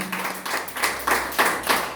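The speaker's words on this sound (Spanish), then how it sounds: "Bueno, vamos a darle un aplauso al Señor." A church congregation claps together in a steady rhythm, with loud, close bursts landing roughly every half second, about five strong beats in quick succession.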